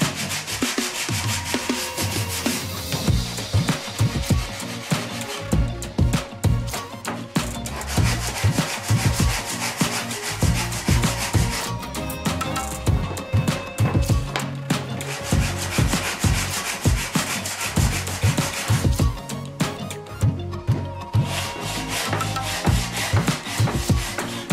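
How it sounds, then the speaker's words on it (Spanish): Hand sanding of a wooden clamp accessory, a steady back-and-forth rasping rub that repeats in quick strokes, loud and close, with no talking throughout. "El siguiente paso es lijar bien la madera."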